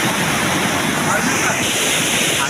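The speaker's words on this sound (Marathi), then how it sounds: "पाण्याची प्रवाह एवढं मोठा आहे की सहजच माणसाला वाहून नेऊ शकतो" The Jambhali waterfall near Korchi pours with a strong current, a dense, continuous roar of rushing water that fills the whole clip loudly and evenly.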